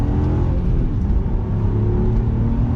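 A naturally aspirated 3.2 V6 engine in an Audi TT Mk1, a steady deep rumbling drone heard from inside the car while driving, loud and continuous with no talk.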